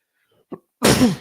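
A single sharp sneeze bursts out close by, preceded by a brief catch of breath.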